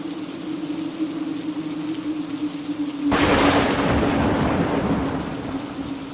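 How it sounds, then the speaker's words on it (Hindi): Steady rain hisses under a low hum, then a sudden loud crack of thunder breaks in and rolls into a heavy downpour roar. "कड़कती बिजली के साथ साथ मूसलाधार बारिश भी शुरू हो गई।"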